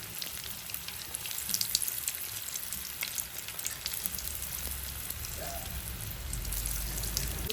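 Food sizzles and crackles in hot oil as pieces are slowly lowered in, a steady bright frying hiss throughout with a brief pop and no talk.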